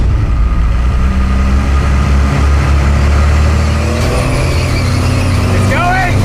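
A 5.9L Cummins diesel engine swapped into an El Camino, rumbling loud and steady up close as it is put into gear, with people talking and exclaiming over the continuous engine noise.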